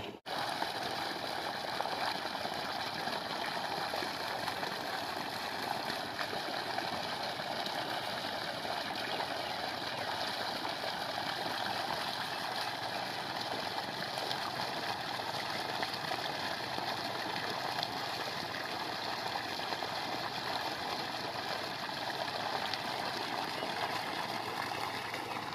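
A motor runs near water with a constant, even drone mixed with a rushing, gurgling wash of sound. It holds steady for about 25 seconds with no talking.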